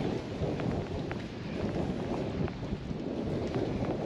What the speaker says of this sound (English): Today, it's as crappy as this with so much rain.